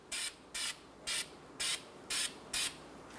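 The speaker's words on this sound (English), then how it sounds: "you're going to clean it off with some brake parts cleaner" Six short, even bursts of aerosol brake parts cleaner sprayed onto the wheel hub during a front brake job on a 2013-2022 Buick Encore, each hiss about a fifth of a second long, close and clear with no talking.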